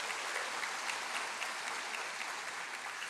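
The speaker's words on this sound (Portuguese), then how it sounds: "Se você crê, aplaude Jesus bem forte." A church congregation claps during a service, a broad, even patter of many hands, moderately distant and fairly soft, with no speech over it.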